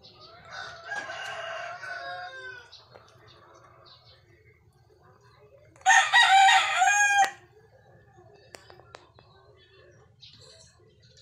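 A regular grey gamecock crossed to Gilmore Hatch crows twice: a clear crow early, then a louder, sharper crow a few seconds later, with faint clucks and soft background noise between.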